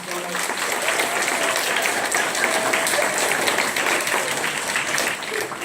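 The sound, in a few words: audience applause at DARE graduation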